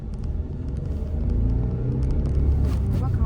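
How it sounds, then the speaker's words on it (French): Renault Clio V five-door with a 1.0 TCe engine accelerating on the road, heard from inside as a low engine rumble that swells and deepens steadily, with faint road noise. "Maintenant, je vais accélérer un peu."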